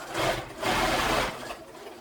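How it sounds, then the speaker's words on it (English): Sewing machine stitching a fabric seam with a 1/2 inch seam allowance while making a hat, a steady motor whir in two close bursts, fading slightly toward the end. "I'm going to go ahead and sew this seam using a 1/2 inch seam allowance"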